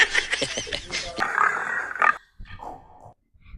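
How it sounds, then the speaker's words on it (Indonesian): Pig grunts played for a children's animal sound guessing game, a rough burst of grunting and snorting that fades into quieter sounds at the end. "Babi."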